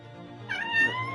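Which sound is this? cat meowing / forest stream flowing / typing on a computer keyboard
cat meowing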